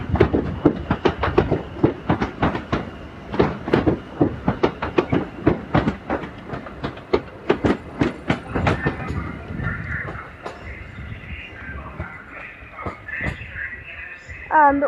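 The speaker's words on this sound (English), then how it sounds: "now 805002 is departing with the late running 1058 Avanti West Coast service to Birmingham New Street" Avanti West Coast unit 805002 pulls out of Crewe station on the West Coast Main Line, its wheels beating a close, regular clickety-clack over rail joints that thins to a quieter rolling rumble, with no talk.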